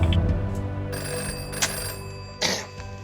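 A telephone bell rings aboard a warship, a steady continuous ring heard up close under the hum and background noise of the ship, with a couple of short clatters during the ring.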